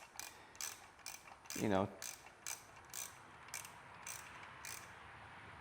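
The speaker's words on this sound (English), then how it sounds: "I'm just gonna torque them" Ratcheting clicks from tightening bolts on a Yamaha WR250R motorcycle, quiet and close, in short bursts with a brief metallic squeak partway through; a voice mutters briefly.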